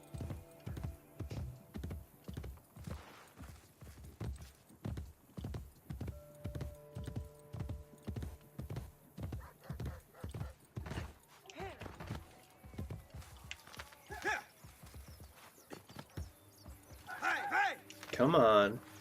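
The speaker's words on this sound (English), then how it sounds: "Horse is always rough to maneuver on this terrain because he will decide he does not want to move." A horse gallops across rough terrain in Assassin's Creed Brotherhood, rapid rhythmic hoofbeats pounding steadily before slowing, followed by a short loud neigh near the end, with someone talking over parts of it.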